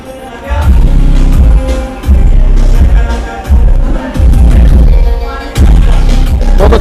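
An 8-inch Deaf Bonce 600 RMS subwoofer thumps heavy bass inside a Mahindra Thar, heard from outside the vehicle as loud, booming low-end pulses in sustained stretches with short breaks between them.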